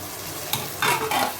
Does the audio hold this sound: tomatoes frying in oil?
yes